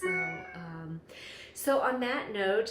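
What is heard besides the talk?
pet cat meowing for food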